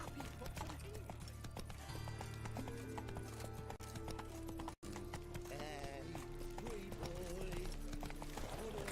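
Hooves of the horse Roach galloping in The Witcher 3, a steady rapid clip-clop running continuously under game music and ambience, with a brief whinny and a voice speaking partway through.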